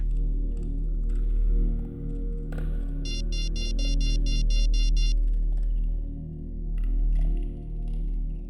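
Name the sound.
telephone ringing during an outgoing call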